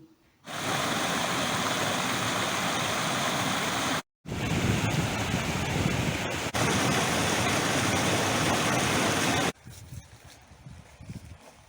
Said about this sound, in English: I went down to the little stream to see how much it grew in the rain.